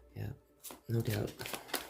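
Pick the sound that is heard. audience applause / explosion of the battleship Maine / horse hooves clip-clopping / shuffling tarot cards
shuffling tarot cards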